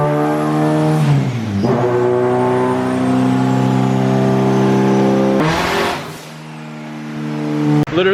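A turbocharged SR20DET car engine revs on a dyno, a loud sustained drone climbing steadily in pitch, breaking off sharply, then pulling hard again before cutting out at the end.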